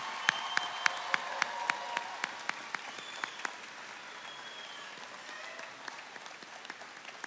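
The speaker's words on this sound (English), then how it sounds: "Let's give them another round of applause." A crowd applauds a graduating class at a university ceremony. Steady clapping from many people sounds somewhat distant and fairly soft, with a few sharper individual claps standing out early before the applause gradually thins.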